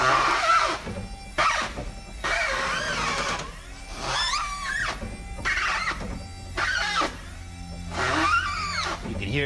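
Electric power steering pump from an Astra running with a high, whiny, zingy electric motor sound, fluctuating steadily throughout at close range with no talk.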